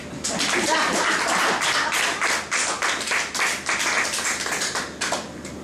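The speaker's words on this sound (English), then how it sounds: "You may clap." An audience claps steadily in a hall after a spoken poem, the dense patter of many hands sustained and fairly loud, with a few louder individual claps standing out.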